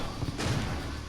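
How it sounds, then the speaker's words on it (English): A door opens in the survival horror game Resident Evil Outbreak, giving a muffled slam and thud over low rumbling ambience, short and solid. "Open the door."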